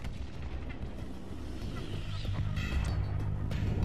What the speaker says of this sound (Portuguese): A explosão do impacto foi equivalente à força de 1000 bombas de Hiroshima